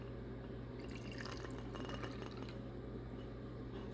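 Leftover water from soaked alfalfa pellets is poured, a soft, close trickle with faint drips and glassy clinks, building in the middle and tapering off.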